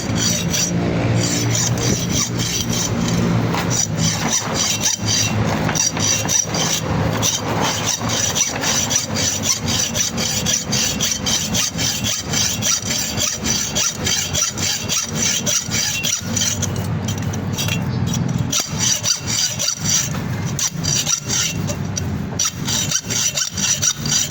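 A sharp hand saw cuts through a Christmas decoration during dismantling, its rasping strokes loud and close, running in a rapid continuous rhythm for the whole stretch.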